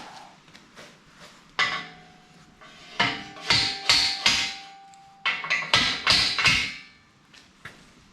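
A hammer tapping on metal during work on a farm bale grabber, a run of sharp metallic clanks in irregular bursts, some ringing, moderately loud and close with no talk.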